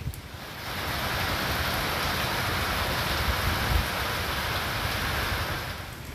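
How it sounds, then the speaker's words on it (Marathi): Heavy monsoon rain pours down over Palghar district and the Vasai-Virar area, a dense, steady roar that holds evenly from start to finish with no voices. "पालघर जिल्ह्यासह वसई विरार परिसरात पावसाने आज जोरदार हजेरी लावली"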